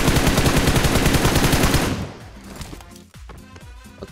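Loud, fast automatic gunfire from a weapon in a video game, a dense rattling burst lasting about two seconds before cutting off into quieter game sounds.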